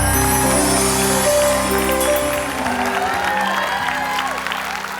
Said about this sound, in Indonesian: Ya udah kalau gitu tepuk tangan dong untuk KBC